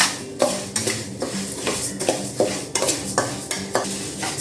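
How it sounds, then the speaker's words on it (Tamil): Parboiled rice dry roasting in a pan, stirred with a spoon that scrapes against the metal in repeated strokes, with a light grainy rustle in between and no talk. "இப்போ இதையும் அதே மாதிரியே நல்லா வறுத்துக்கணும்"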